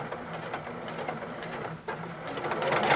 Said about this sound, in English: Stitch forward 3 stitches, cut my thread.